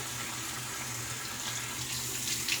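Cold water running from a tap into a sink during a wet shave preparation with a copper bowl, a steady hissing splash that stays even throughout, close by.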